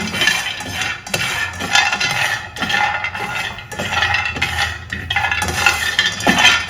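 Almonds for tilgul ladoo being stirred and roasted in a pan with a spoon, giving continuous dense scraping and rattling with repeated metallic clinks, loud and close with no talk.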